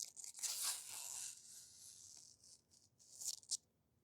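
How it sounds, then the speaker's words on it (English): Protective plastic film is peeled off a robot vacuum charging dock, a close crinkly tearing rustle that swells, fades, and ends with a couple of sharp crackles. "Just take the plastic off."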